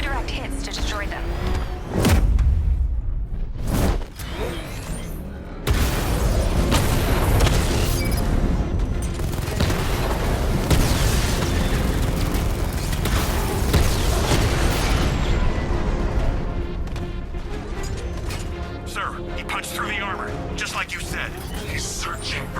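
A Batmobile's 60mm cannon fires at heavily armored units in Batman: Arkham Knight, producing heavy booming shots and explosive bursts. The blasts are mixed with mechanical game noise and voices talking.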